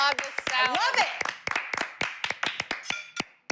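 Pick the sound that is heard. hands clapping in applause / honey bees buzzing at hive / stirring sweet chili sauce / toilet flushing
hands clapping in applause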